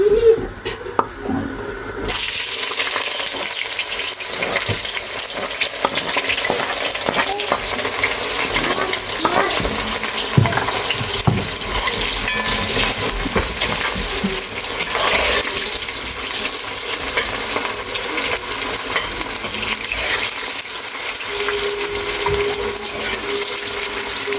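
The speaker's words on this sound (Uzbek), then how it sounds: "Endi mana piyozni qovurishni boshlaymiz." Onions frying in oil, a loud, continuous sizzle with occasional stirring clatter, close by and steady throughout.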